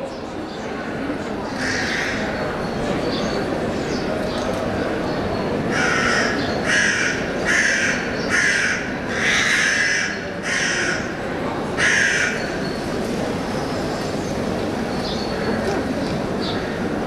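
Crows cawing over Moscow parkland near an owl fledgling, a series of loud, harsh caws bunched into the middle of the stretch over a steady outdoor rumble, with talking heard throughout.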